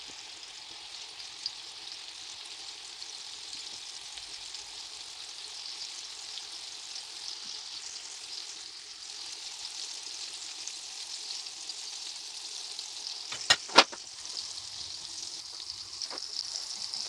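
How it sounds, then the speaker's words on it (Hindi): Tuna steak fries in melted butter over a medium-high flame, making a long, even sizzle. A couple of faint clicks break in near the end. "अब मैं अपनी फ़िश डालूँगी और इसे हमने मीडियम हाई फ्लेम पे तलना है"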